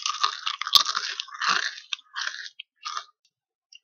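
A human voice imitates the crunch of crispy pork belly crackling with close, loud, irregular crunching and chewing sounds in a few bursts, alone with no talk.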